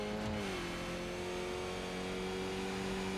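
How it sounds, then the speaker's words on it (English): Skip Barber Formula 2000 open-wheel race car in a racing video game, engine note dropping on a gearshift then holding a loud, steady high drone at full throttle, continuous and close. "Little lift, full throttle. Down a gear and full throttle."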